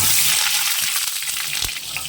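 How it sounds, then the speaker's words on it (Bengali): Potatoes drop into hot oil in a home kitchen and fry with a loud, steady, hissing sizzle that fills the whole moment at close range, without any talking. "তেল গরম হয়ে গেছে আলুটা ভালতে দিয়ে দেবো"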